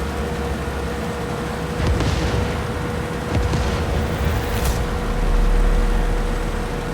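Explosions from Far Cry 6 go off as a few muffled, distant booms, with a deeper rumbling blast near the end, all over a steady background hum.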